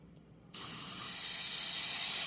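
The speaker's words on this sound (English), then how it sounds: "by aiming the airbrush up, I won't be hitting that area too much" An airbrush spraying pastel paint gives a sudden steady hiss that starts after a brief quiet moment and holds loud and close to the end.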